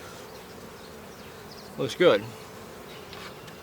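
Honey bees hum around an open hive split during a July afternoon inspection, a steady faint drone with a couple of closer buzzing passes; a person speaks briefly.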